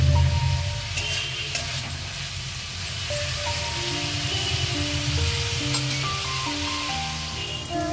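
Bottle gourd peel frying in a pan, a continuous crackling sizzle with scattered sharp pops and occasional scraping stirs, steady and close with no voices.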